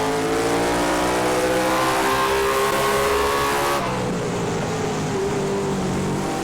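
Onboard engine roar of a late model race car at Hickory Motor Speedway, loud and steady at high revs before the tone drops sharply as the car lifts, with a faint announcer under the engine.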